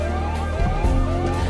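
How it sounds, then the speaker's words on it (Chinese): An alarm siren wails late at night in a town, its rising and falling tone sweeping repeatedly, loud and prominent over a low rumbling background. "警报响起了。"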